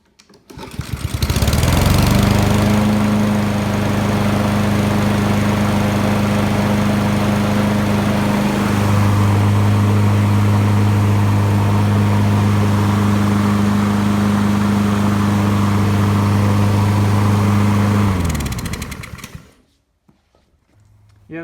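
Husqvarna lawn mower with a Honda engine running rich after a stuck choke, a loud steady drone holding for about sixteen seconds with a slight pitch shift midway before cutting off and falling quiet.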